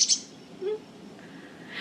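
Faint outdoor birdsong: a few thin high chirps and a short mid-pitched call over a soft background hiss, heard from a distance.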